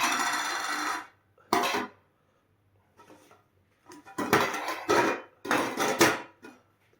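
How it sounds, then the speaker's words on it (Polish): Small containers for a field stove are opened one after another, giving several close, clattering metallic bursts separated by short pauses. "Po kolei otwieramy sobie wszystkie pudełeczka."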